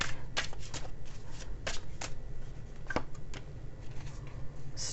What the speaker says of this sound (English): pull one extra tarot card out of my Chinese deck here